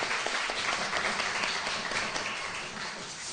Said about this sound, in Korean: 환영의 박수 쳐드리도록 하겠습니다.